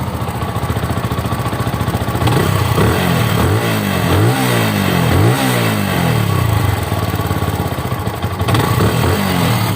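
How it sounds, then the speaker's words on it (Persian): A Benelli 180 motorcycle engine runs loud and close, idling with a steady throb, then revving up and down a few times. "صدای موتور داشته باشین"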